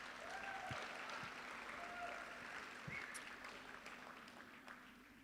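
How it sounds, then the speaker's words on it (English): Audience at a graduation celebration applauding in a steady wash of clapping that slowly fades, heard faintly from a distance. "Give them another round of applause."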